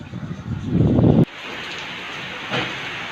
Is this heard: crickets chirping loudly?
no